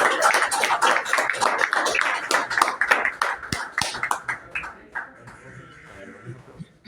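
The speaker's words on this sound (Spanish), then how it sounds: "Y los aplausos" Applause from an audience at the presentation of an entomology book: a burst of dense, close hand clapping that thins out into scattered claps and fades after about five seconds.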